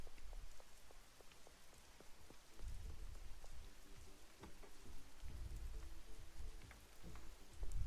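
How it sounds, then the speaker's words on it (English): Steady rain pours down in the video game Schedule I, a dense continuous hiss with scattered drip ticks and low rumbling swells, with no voices. "And the rain's back."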